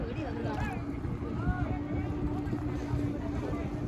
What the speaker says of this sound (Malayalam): ഫുൾ കൺജസ്റ്റഡ് ബോട്ട് വരുന്നുണ്ട് കാണാൻ.